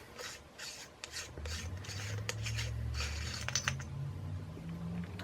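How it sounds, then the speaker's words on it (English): Metal end cap of a firearm suppressor unscrewed by hand, giving a close, gritty rasping and rubbing with small clicks and a low underlying hum throughout, no talking. "you're going to unthread the end that the round comes out of, not the thread that directly threads onto your barrel"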